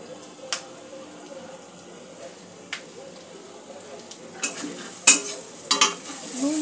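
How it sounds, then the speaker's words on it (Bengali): Potatoes stir-fried with spices in a pan give a quiet sizzle beneath a voice, punctuated by several sharp scraping clacks of a utensil against the pan that grow louder toward the end. "আলু দিয়ে মশলার সাথে কষিয়ে নেব।"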